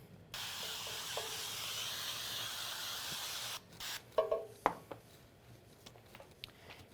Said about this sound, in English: You want to spray it with your nonstick cooking spray.